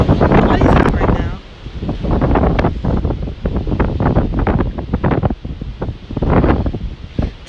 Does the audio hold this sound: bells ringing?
no